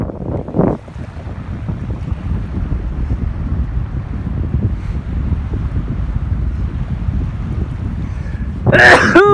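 A man sneezes once, sharply, near the start, on a boat off Coral Bay, Australia. Steady wind noise buffets the microphone afterward.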